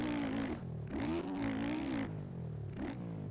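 A 250 dirt bike engine in the supercross game MX Bikes revs up and down in repeated throttle bursts, a buzzy two-stroke-like drone rising and falling in pitch, loud and close with no talking.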